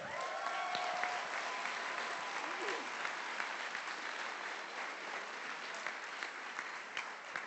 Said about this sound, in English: I, again, want to have a big round of applause for Indivisible today.